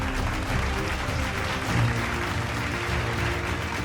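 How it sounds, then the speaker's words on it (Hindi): Steady, dense applause from an audience at a first anniversary celebration, loud and continuous throughout with no break and no speech over it. "उनका नाम लेने से पहले जोरदार तालियां होनी चाहिए"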